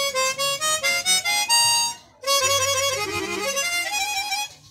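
A chromatic harmonica is played with its slide button pressed to reach sharps and flats. It gives a few clear reedy notes in short breaths, a brief pause, then a longer sustained run of tones, close and alone.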